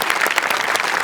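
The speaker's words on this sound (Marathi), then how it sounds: "जोरदार टाळ्या" Loud, dense applause from a studio audience, steady clapping that fills the whole moment with no voices over it.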